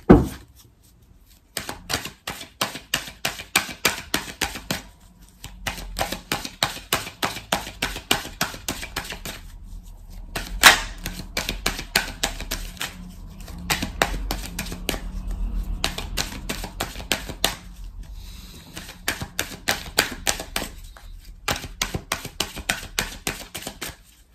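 Oracle cards being shuffled, long runs of rapid crisp flicking and riffling, close up, broken by a few short pauses and a louder thump of the deck.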